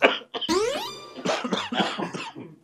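A person with a two-day cough hacks close to the listener, a couple of sharp bursts followed by a longer, strained, rattling fit, with no speech.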